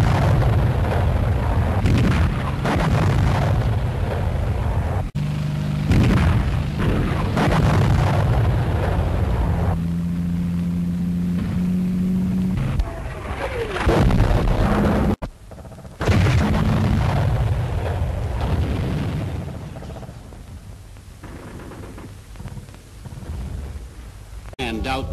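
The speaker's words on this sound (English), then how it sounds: "A few remaining anti-tank guns fight them off at point-blank range." Anti-tank guns fire at point-blank range amid ruined houses during WWII street fighting at Arnhem in a war film. Heavy booms and blasts sit over a dense, continuous roar of battle noise, loud and sustained.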